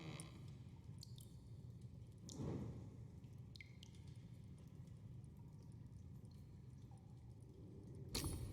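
Wading footsteps through shallow water in the puzzle video game House of Da Vinci 3, a steady low sloshing texture with a few heavier splashes and soft drips, with no voices.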